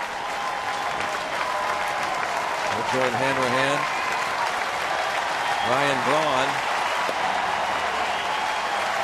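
A stadium crowd at a baseball game between Chicago and Pittsburgh applauds and cheers steadily throughout, a broad wash of clapping under a play-by-play announcer's speech.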